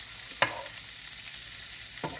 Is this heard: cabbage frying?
yes